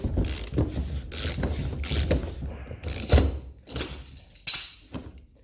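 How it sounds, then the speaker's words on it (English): Wrench work tightening a 15mm nut during a Mazda 6 fuel pump replacement, with uneven metallic ratcheting clicks and clanks of tools in short bursts, close and fairly loud. "tighten this, and then our 15mm nut"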